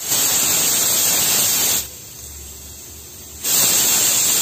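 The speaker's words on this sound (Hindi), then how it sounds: "कुकर में दो सीटी आ चुकी है" A pressure cooker on a high gas flame hisses loudly and steadily while cooking mango pulp, the whistle-like rush cutting out for about a second and a half in the middle before resuming at full strength.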